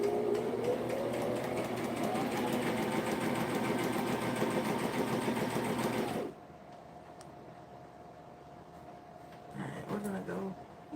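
A domestic sewing machine back stitches a seam in one steady, close run lasting about six seconds, then stops abruptly, leaving quiet room tone with a brief voice near the end.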